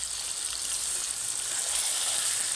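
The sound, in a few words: chicken frying with tomato, onion, ginger, garlic, green chilli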